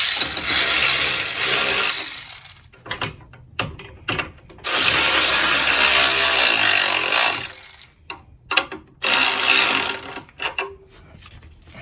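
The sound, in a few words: ratchet tightening bolts on a Nissan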